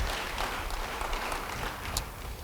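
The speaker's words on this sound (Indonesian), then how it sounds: "Beri tepuk tangan bagi dia." Church congregation applauding during a sermon blessing, a steady wash of many hands clapping at moderate volume, diffuse and continuous across the room with no speech over it.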